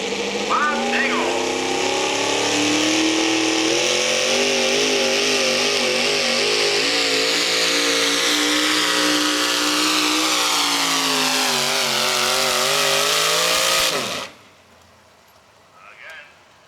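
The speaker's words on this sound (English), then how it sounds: "there goes truck pulling" A truck-pulling competition engine roars at sustained high revs for about fourteen seconds, a loud, steady, harmonic-rich drone with slight pitch wavers, then cuts off abruptly, leaving faint crowd sounds.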